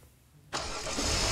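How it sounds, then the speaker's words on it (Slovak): A car engine starting: a quiet moment, then an abrupt crank catches into a steady idle that grows slightly louder, close by, with no talking. "motor naštartovaný"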